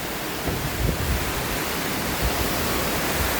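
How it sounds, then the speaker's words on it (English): Steady roaring rush of a waterfall at Huroc Park, Flat Rock, heard from beneath a walkway, dense and unbroken throughout, with no voices. "you can hear the waterfalls"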